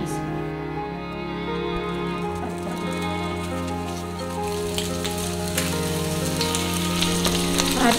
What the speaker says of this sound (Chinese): 倒油之后呢，我们要把鸡肉放下去煎，鸡肉的皮要朝下